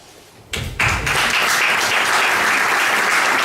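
After a brief quiet moment, loud applause bursts out from a seminar audience at a church conference and builds into a dense, sustained roar of clapping that carries on evenly to the end, with no one talking over it.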